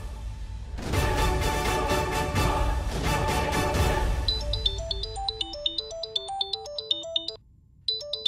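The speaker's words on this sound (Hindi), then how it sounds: "अरे बंटी का फोन" A mobile phone rings in a Hindi TV serial, opening with a loud pulsing melodic phrase, then giving way to a bright chiming tune of quick repeated notes that cuts off briefly near the end.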